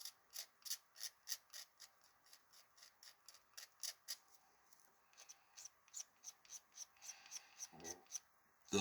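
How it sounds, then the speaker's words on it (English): Small plastic scraping strokes as dried super glue is worked off a white key of a Yamaha KX88 keyboard controller, a steady run of short, close, rhythmic rasps about twice a second with a brief pause midway, with no talk. "I'm gonna scrape the super glue a little bit now."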